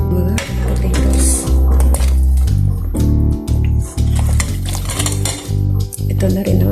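Onions, garlic and potatoes go into a pot of pork ribs soup with mixed vegetables. Close, loud clatter of a utensil against the pot, with clinks and stirring scrapes in an uneven rhythm throughout.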